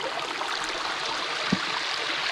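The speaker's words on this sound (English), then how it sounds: "right here this is the river guys" A river in an African village, running higher after recent rain, rushes in a steady, moderately loud flowing hiss with a faint splash midway and no talking.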